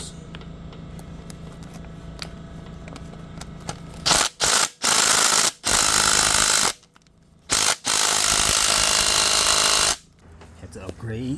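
A Milwaukee power tool loosens intake manifold bolts on an Infiniti G37, loud rattling impact bursts in several separate runs of a second or more, with quieter pauses between and someone talking at the start.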